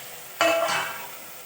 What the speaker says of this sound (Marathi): फ्राय करायचं. त्यात कोकम टाकलाय.